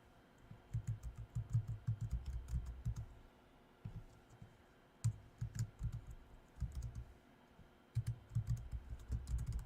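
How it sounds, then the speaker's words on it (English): Someone typing an email on a computer keyboard, with bursts of rapid key clicks separated by short pauses, close and clear, with no talking. "I'm just typing it out right now, the email."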